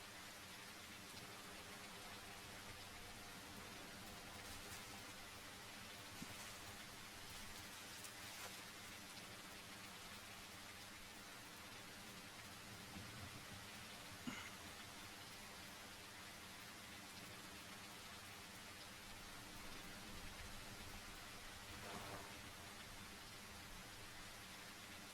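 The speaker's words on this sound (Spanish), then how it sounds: "El sonido de esta lluvia, como les decía, cubre nuestras pisadas" Steady, dense rain hiss in the survival video game The Isle, a continuous broadband wash with scattered droplet patters, holding even and unbroken throughout with no voices.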